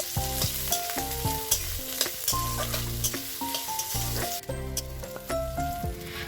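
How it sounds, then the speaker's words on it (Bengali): Khesari greens frying with dried chili, onion and garlic sizzle steadily in a pan. Close stirring scrapes come in short bursts over the crackle, with no voice heard. "শুকনো লঙ্কা পেঁয়াজ রসুন দিয়েই শাকটাকে ভাজা করব"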